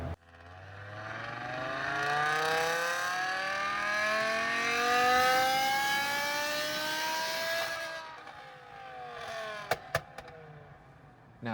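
A V10-swapped BMW E92 M3 makes a full pull on a dyno, its engine note rising loud and steady in pitch for about eight seconds before lifting off, followed by a few sharp pops near the end.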